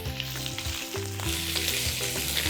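Food searing in a hot wok, a loud, close, continuous sizzle with crackling bursts and stirring.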